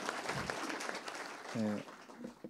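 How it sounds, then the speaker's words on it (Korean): Lecture hall audience at a mathematics society plenary session applauds to welcome the keynote speaker, a short faint patter of clapping with a brief voice over it. "박수로 환영해 주시면 감사하겠습니다."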